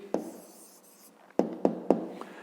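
A pen writing an answer on paper during a fifth-grade maths exercise: a soft scratch, then three distinct tapping strokes close by, quiet and without speech.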